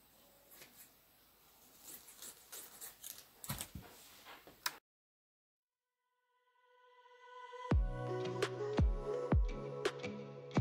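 Scissors snipping through tulle fabric for a child's tutu skirt, a few sharp close cuts in quick succession after a silent pause, heard alone without talk.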